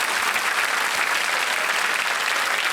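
Studio audience at a TV quiz show clapping steadily to welcome a doctor guest, a dense, even burst of applause with no talking over it.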